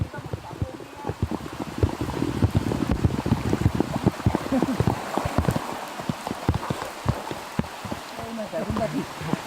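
Steady rain pattering hard with gusts of wind buffeting the microphone during a thunderstorm by a rain-swollen river, a dense, continuous wash of drops throughout.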